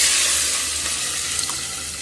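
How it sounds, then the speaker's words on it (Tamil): Rasam is poured into a hot pan of tempering with mustard seeds, curry leaves and asafoetida, setting off a loud hissing sizzle that starts strong and slowly eases off. "இப்போ ரசத்தை ஊற்றிடலாம்."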